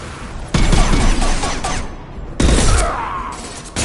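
Heavy gunfire in a Mass Effect-style shooter battle against Krogan: dense, loud bursts of automatic weapon fire in two long volleys, with rattling impacts and explosive cracks close by.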